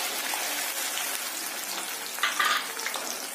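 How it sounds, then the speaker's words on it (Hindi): Onion and onion paste fry in a pan over a low flame, a soft, steady crackling sizzle at moderate distance with a brief brighter spatter partway through. "अब मैं डालूंगा प्याज और प्याज का पेस्ट"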